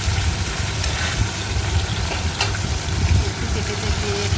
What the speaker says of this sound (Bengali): ভালো করে ভেজে নিচ্ছি মিডিয়াম টু লো ফ্লেমে